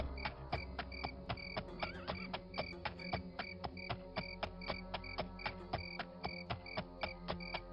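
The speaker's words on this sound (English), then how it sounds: "Oh yes, I'd forgotten about the crickets." Crickets in Daggerfall Unity chirping in a fast, regular pulsing rhythm, loud and repetitive throughout, with no voices over them.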